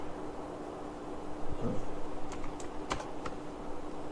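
A computer keyboard is used to type R code, giving a few soft, close keystrokes over a steady background hiss, sparse and irregular, with no one talking.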